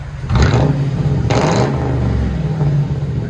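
Mercury Grand Marquis 4.6L V8 with glass pack exhaust revs loud and close in two sharp blips, each settling back into a deep, rumbling idle.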